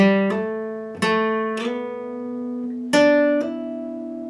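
A short run of electric guitar notes from a solo, with a string of picked notes, hammer-ons and a slide played in sequence. Bright, sustained and close, with no speech over it.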